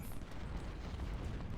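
Cannon artillery fire in the Ultimate General: Civil War game at Antietam, a dense continuous rumble of booms and blasts that fills the clip at a steady loud level.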